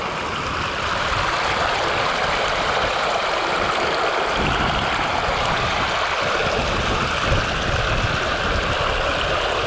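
A small stream beside a river rushes steadily and loudly in the outdoors, forming a constant broadband wash with no talking.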